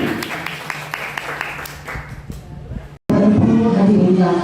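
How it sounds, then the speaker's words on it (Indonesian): Scattered clapping from an audience at a school event starts sparse and close, then swells into fuller, denser applause from a crowd after a brief silent gap. "Tepuk tangan untuk kita semuanya."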